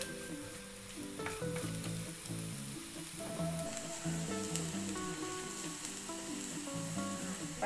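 Onion dropped into hot cooking oil in a home kitchen, the start of a beef shawarma rice dish, sizzling and crackling steadily, growing slightly louder and denser midway, with no talking.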